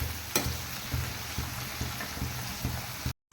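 Garlic cloves fry in a pan of oil for a garlic pickle, giving a steady close sizzle broken by several soft scraping knocks as a spoon stirs them, then a sudden cutoff at the end.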